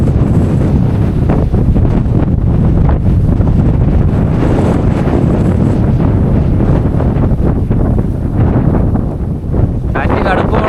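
Strong wind buffets the microphone at the Aanaikal hilltop viewpoint near Kanyakumari, a loud continuous roar with gusty rumble throughout, while a person talks over it.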